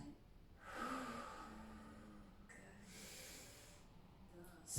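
A person draws a breath in during a shoulder and back mobility exercise, a soft, breathy inhalation heard close, followed by a second, quieter intake of air.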